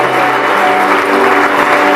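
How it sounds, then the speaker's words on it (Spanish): A church congregation bursts into loud, sustained applause during a worship service, dense clapping filling the room with a faint tone underneath. "Denle un aplauso a Dios por lo que va a hacer en esta noche."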